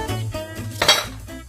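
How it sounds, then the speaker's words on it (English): Dry pasta goes into a metal pot for boiling in a home kitchen, with a brief burst of clattering and clinking metal, close and fairly loud, lasting barely over a second. "Add the pasta."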